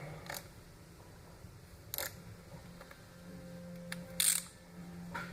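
Torque wrench clicking while tightening engine bolts on a Polaris 700/800 snowmobile top end, a few sharp, separate metallic clicks spaced out against a quiet background hum.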